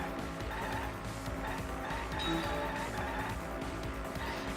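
Car driving and skidding in the Danganronpa V3 video game: a steady engine drone mixed with tire noise, continuous and fairly dense for the whole stretch, with no talk.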